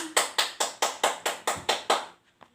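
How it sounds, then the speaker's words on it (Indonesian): A class of pupils claps in unison for a classmate: eight sharp, evenly spaced claps in a quick steady rhythm, close and fairly loud, then a faint stray tap as it stops. "Beri tepuk tangan buat Rifan."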